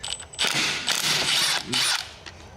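A stubby half-inch drive impact wrench, set against a bolt torqued to 250 pounds, fires in three loud hammering bursts, each about half a second long, with short pauses between them as the bolt comes loose.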